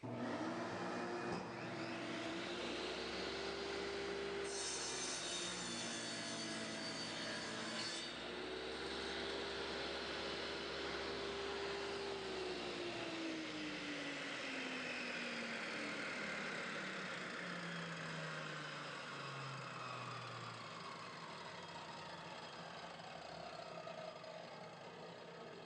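A table saw cuts a bevel in wood: a steady, loud motor whine drops in pitch as the blade bites into the board, then winds down gradually once the cut ends, with no talking.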